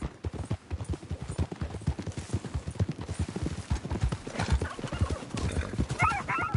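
Horse hooves clip-clop steadily and up close on a wooded trail in Red Dead Redemption 2, a quick rhythmic patter of several horses, with an occasional snort or whinny over the hoofbeats.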